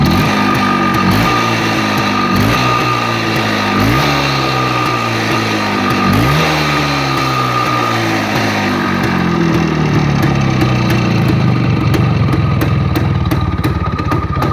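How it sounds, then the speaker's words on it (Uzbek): A battery-powered electric motorcycle is revved in repeated throttle bursts, its loud, close whine rising and falling every couple of seconds before settling into a steadier hum. "Bu mototsiklimiz ham akkumulyatorlik. Mana hozir gaz berib ko'raman."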